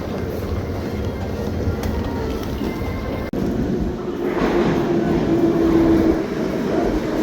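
A metro train rumbles steadily, growing louder as it pulls in, with a faint tonal whine rising over the rumble; no talk.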